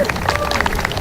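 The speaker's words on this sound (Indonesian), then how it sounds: "Tepuk tangan dong." An audience at a speech in Indonesia breaks into brief applause, a quick burst of scattered clapping mixed with crowd noise and voices.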